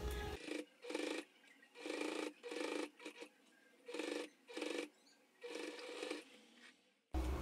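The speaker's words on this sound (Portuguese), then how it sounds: "vou passar uma costurinha em cima aí, ó. Só pra fechar essa partezinha" A sewing machine stitches plastic for a toiletry bag in repeated short bursts of fast, close, buzzing whir separated by brief pauses, with no talking.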